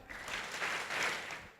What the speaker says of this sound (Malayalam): ശിവൻ വളരെ ഉത്സാഹത്തോടുകൂടി കൈയടിച്ച് എന്നെ പ്രോത്സാഹിപ്പിക്കുന്നതിന് നന്ദി.